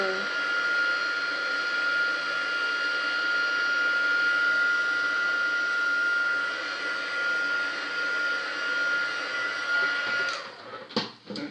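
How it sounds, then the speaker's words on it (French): A heat gun drying a hobby model gives a steady, fairly loud blowing whine with a constant tone that runs unbroken for about ten seconds, then cuts off into a few short clunks. "le sécher avec le heat gun"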